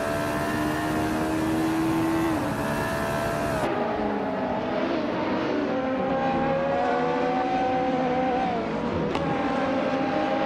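Race car engines drone and whine together in a racing video game, several motors holding steady high revs with shifting pitch, loud and continuous throughout with no talking.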